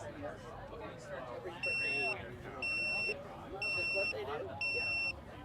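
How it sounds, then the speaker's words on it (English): A tire deflator gives a high electronic beep four times at an even pace, each tone about half a second long, over people chatting. "it's going to beep and flash at you like a microwave's done with its popcorn"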